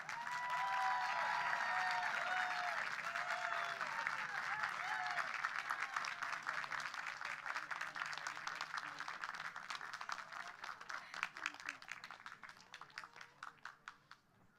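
Sustained audience applause at a class of 2022 graduation ceremony, a dense wash of many hands clapping that holds steady and then thins into scattered claps as it fades toward the end.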